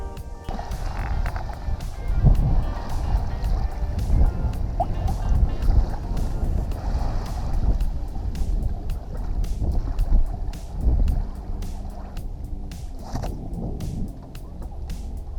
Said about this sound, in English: We're right outside of Annapolis, in the Annapolis harbor, just kind of